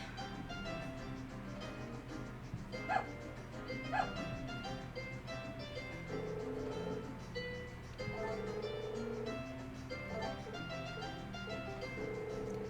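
Puppies barking in the Harvest Moon farming video game, a couple of short yips standing out over steady background game music and ambient hum.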